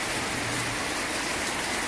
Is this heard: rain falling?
yes